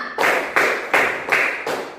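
A classroom of pupils clap together in a counted clapping game, five loud, evenly spaced bursts of many hands striking at once, each burst ringing briefly before the next, with no talking.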